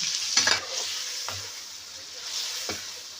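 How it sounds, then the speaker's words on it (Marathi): Masala is stirred into a brinjal and potato vegetable dish sizzling in a pan, a steady frying hiss with a few soft scraping stirs, close and moderately quiet. "ते बघा आता वांग्यामध्ये मसाला टाकून त्यांनी मिक्स केले"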